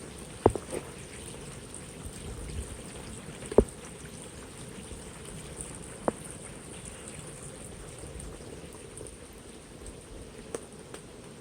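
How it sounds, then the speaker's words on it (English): Water rushes down below a corridor where erosion controls have failed, pouring over small waterfalls into a stream. It makes a steady, broad hiss with a few sharp splashy clicks and no voices. "You can hear the velocity, the force of the water coming down."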